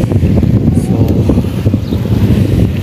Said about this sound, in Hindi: मौसम भी बहुत मज़े का, हवा चल रही है ठंडी ठंडी